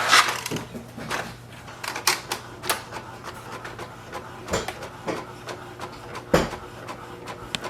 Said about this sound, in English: Wait for the printer to do the copy.